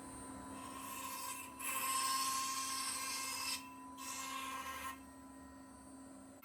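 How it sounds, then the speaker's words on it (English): A high-pitched CNC router whines as it mills excess beech and idigbo inlay flush with a walnut board, the cutting noise rising and falling in passes over a steady motor hum. "all the excess beech and Idigbo is milled off"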